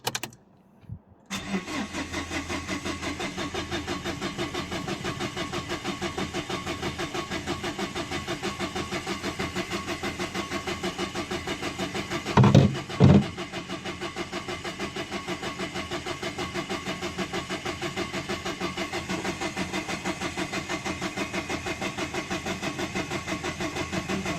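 A Renault 1.5 dCi diesel car engine cranks continuously with a steady, rapid churning that never catches into a run, broken by a brief louder surge partway through.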